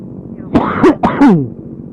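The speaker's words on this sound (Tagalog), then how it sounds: "Ubo na naman." Two hacking coughs in close succession, near and loud, over a low steady background hum, on a night motorcycle ride.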